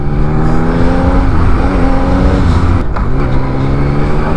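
A 2021 Yamaha MT-09 motorcycle engine idles with a loud, deep, steady rumble close to the microphone, and its tone wavers slightly as the rider works the clutch.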